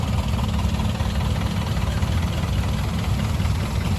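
A 1942 Massey-Harris tractor engine runs steadily at a low idle, a continuous deep rumble with faint knocking that stays even and close for the whole stretch, with no voices.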